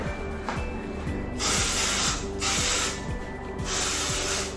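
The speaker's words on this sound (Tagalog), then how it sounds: "Nag-spray ako ng antibac" An antibacterial spray is sprayed around a room, three hissing bursts over a steady mechanical ratcheting background, close and fairly loud.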